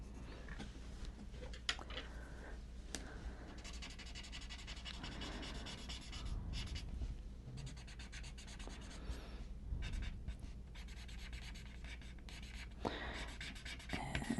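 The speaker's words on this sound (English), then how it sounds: "I'm going to put some shading down on the bottoms." Pen nib scratching steadily across paper while shading a zentangle doodle, a close, continuous dry rubbing with short strokes and brief pauses, no talking.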